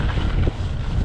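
Strong headwind roaring across the microphone while riding a bicycle, a loud, constant low buffeting rush filling the whole short moment with no other sounds.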